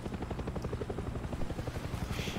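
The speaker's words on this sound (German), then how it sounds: "Der Helikopter schwirrt hier einfach immer noch rum." A hovering helicopter in the video game Far Cry 6 gives a fast, steady rotor chop with a low droning hum, close and continuous throughout with no talk.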